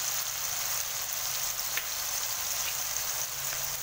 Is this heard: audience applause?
no